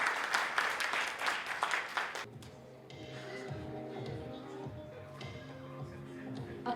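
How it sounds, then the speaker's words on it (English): An audience claps at a felicitation during an architecture and interiors design event in Pune, a brisk burst of applause for about two seconds before someone speaks over a quieter room. "A huge round of applause, please."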